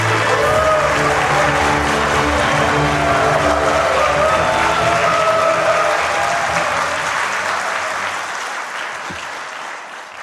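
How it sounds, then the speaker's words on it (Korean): A large audience at an investment agreement ceremony applauds in a long, dense wave of clapping that holds strong, then slowly fades toward the end. "우선 감사의 박수 한번 드리겠습니다."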